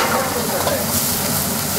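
Meat and vegetables sizzle and hiss in a hot pan during a stir-fry, a dense, continuous crackling fry with stirring, close and steady.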